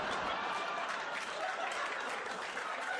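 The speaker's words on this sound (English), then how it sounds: "Applause break on a joke I've never said before on my special." Audience applause breaks out at a stand-up comedy show, a dense, steady wash of clapping from a large crowd that fills the whole stretch with little variation and a few faint chuckles mixed in.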